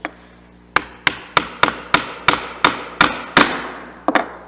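A mallet drives a sharp chisel into poplar while chopping dovetail tails by hand: ten crisp, loud, evenly spaced strikes with ringing decay, then a short pause and one final blow, close and with no voice.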